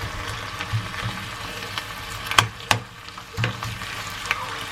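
Crumbled ground beef for homemade tacos fries steadily in a pan with a soft, continuous sizzle. A few sharper spatula scrapes and knocks stand out near the pan, with no talking.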